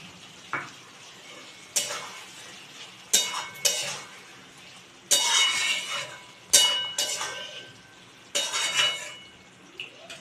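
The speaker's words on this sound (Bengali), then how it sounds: "ভালোভাবে কষিয়ে নিই ঢাকা দিয়ে" Mutton and chopped tomato are stir-fried in a pan for Bengali wedding-style mutton kosha. A spatula scrapes and clinks against the pan in intermittent strokes over a soft, steady sizzle.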